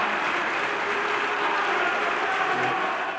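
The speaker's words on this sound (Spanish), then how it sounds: "Y yo pido un aplauso para Lula" Crowd applause for Lula, a continuous, even roar of clapping hands that blends into a dense hiss, steady in level and without clear individual claps throughout.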